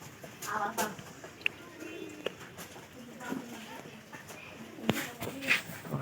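Domestic pigeons kept for breeding coo softly in low, rounded bursts, fairly quiet, with scattered clicks and rustles in the coop around them.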